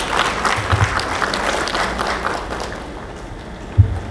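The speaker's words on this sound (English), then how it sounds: "A round of applause for him" An audience at an association convention claps in a dense burst of applause that fades away after a few seconds, followed by a single knock.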